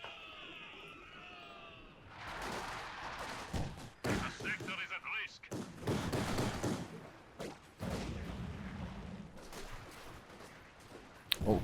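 Company of Heroes 2 battle with rapid bursts of gunfire and heavy impacts among a Dushka heavy machine gun, a flak half-track and Conscript infantry, dense and loud, continuous through the stretch with commentary over it.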